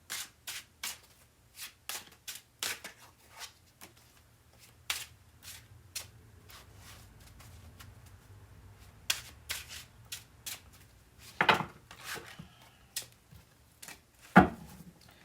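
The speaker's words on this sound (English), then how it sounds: "let me just shuffle them one more time" Tarot cards being shuffled close up in quick riffling bursts, separated by short pauses and soft handling sounds.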